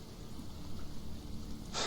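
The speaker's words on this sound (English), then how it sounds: "Good thing it started raining when it did." Steady rain in the video game Sheltered, a low continuous hiss and patter at moderate level, ending with a sudden brighter burst of noise at the close.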